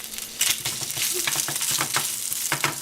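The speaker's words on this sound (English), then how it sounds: "essentially I'm just sauteing this a little bit to warm it up" Trader Joe's vegan chicken-less strips sauté in a pan with a constant crackling sizzle and scattered scraping stirs, close and moderately loud, with no talking.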